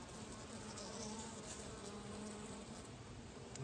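A dense, steady buzz of many honeybees around an open hive while mated queens are introduced, continuous and even throughout with no voices.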